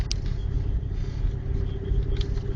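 A car driving down a city street during a 2011 snowstorm, with a steady low engine rumble and road noise heard from inside the vehicle and no talking.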